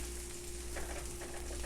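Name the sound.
sweet potato and garlic sizzling in a pan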